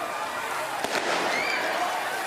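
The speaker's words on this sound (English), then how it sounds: "some groups of young people set off fireworks on Bronte Road" Fireworks set off by groups of young people on a street during Canada Day celebrations, a sharp crack followed by whistling streaks, heard at a distance over a steady crowd-like wash.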